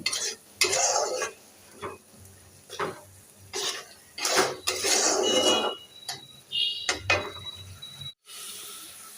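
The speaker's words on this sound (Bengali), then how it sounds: "মশলাটা ডিমের সঙ্গে কষে নিব ডিমের ডিম মশলা সব একসঙ্গে কষে" Spice paste and eggs stir-fried together in a pan, with repeated scraping and clattering strokes of a spatula against metal over a low sizzle, in uneven bursts with brief pauses.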